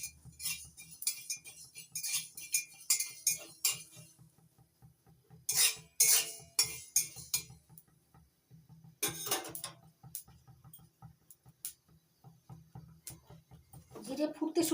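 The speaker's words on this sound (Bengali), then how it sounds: "জিরেটা নাড়াচাড়া করে একটু ভেজে নিচ্ছি।" Cumin seeds dry-roasting in a kadai, stirred with a metal spoon in bursts of rapid scraping clinks against the pan, separated by quieter pauses, close and crisp.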